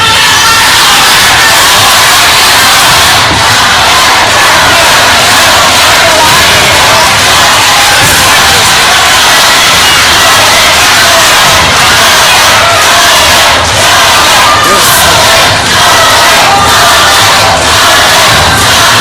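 A studio audience at a televised academy talent show gala roars with sustained cheering, shouting and whooping, a loud dense crowd din that runs without pause throughout.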